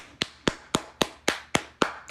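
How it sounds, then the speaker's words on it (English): A few people clap slowly and sparsely for America, about eight distinct claps in a steady rhythm, close and fairly faint. "Let's give a round of applause to America"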